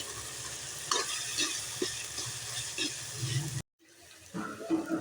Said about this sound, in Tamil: நம்ம எண்ணெயிலே நம்ம வறுத்துக்கலாம்.